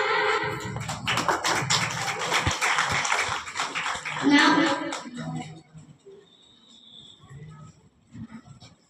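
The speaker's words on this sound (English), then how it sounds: "Clap for Soumya." Seventh-grade students clapping in a classroom, a burst of dense overlapping claps for several seconds that fades into quieter scattered sounds and a few soft taps.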